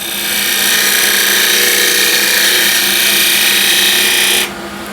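Spindle gouge cutting old window sill wood spinning on a lathe: a loud, continuous hissing scrape over a motor drone, steady for several seconds before the cut lifts off and the motor alone remains.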